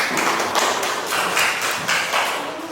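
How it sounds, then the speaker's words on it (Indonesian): Classroom applause from students, a dense run of claps with small taps and thuds, steady and fairly close for a few seconds with no talking over it. "Ya, makasih, tepuk tangan."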